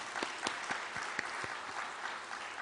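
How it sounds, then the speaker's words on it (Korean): Congregation applauds a choir during a church service on organ donation, a fairly faint, spread-out clapping with several sharper individual claps standing out near the start, no voices over it. "여러분 뜨거운 격려의 박수 부탁드리겠습니다."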